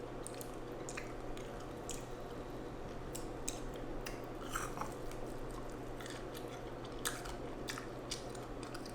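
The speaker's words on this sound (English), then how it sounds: "Get some good B-roll of me chewing." Someone chewing fried bullfrog legs: close, wet crunches and bites in an irregular rhythm over a faint steady hum, with no speech.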